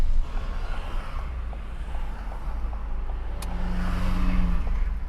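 A car engine rising in pitch as gas is added at the biting point during a driving test pull-away, a steady moderate rev heard from inside the cabin.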